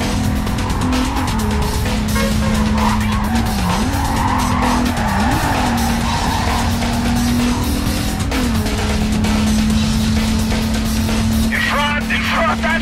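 Tires on a silver sports car squealing and skidding in the Need for Speed Carbon racing game, a loud continuous screech over a droning engine that rises and falls in pitch, with brief talk.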